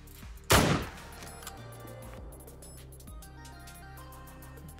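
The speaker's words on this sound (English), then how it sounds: "How about the sound of that gun?" A single loud hunting rifle shot goes off close by while zeroed for a long-range chamois hunt, its sharp crack followed by a rolling echo that fades over the next second into quiet outdoor ambience.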